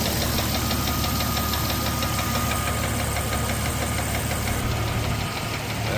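Jeep Cherokee 4.0L engine with a cracked piston, running and knocking: a loud, steady, close rattling clatter over the engine's drone, continuous throughout with no voices.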